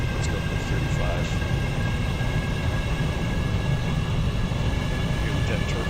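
Steady, loud turbine-like roar from jet turbines spooling up in the video game Stormworks, a continuous drone with faint high whine and no clear speech.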